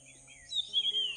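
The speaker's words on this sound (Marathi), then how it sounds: "फक्त पक्ष्यांचा आवाज बघा." Birds sing in a garden at dusk around a quarter to seven, with a few faint, high, thin chirps and short warbles over a quiet background, brief and soft.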